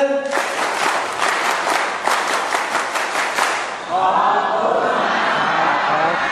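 A crowd at a Thai forum's closing session breaks into strong applause after a spoken countdown, many hands clapping continuously and loud, with voices and cheering mixing in toward the end.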